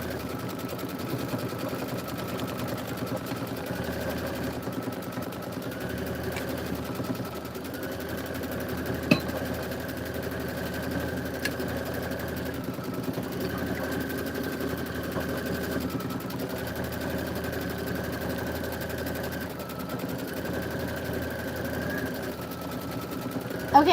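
An embroidery sewing machine stitches out a design in a long, steady rapid mechanical chatter with a recurring higher whine that stops and restarts at intervals, moderately loud and without voices.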